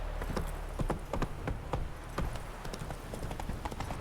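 Hooves of the horse Roach clip-clop in The Witcher 3, a quick run of close, crisp hoof beats in an uneven trotting rhythm that lasts about four seconds, with no speech.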